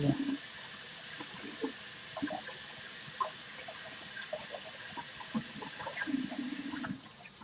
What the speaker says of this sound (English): So I will kind of wash my hands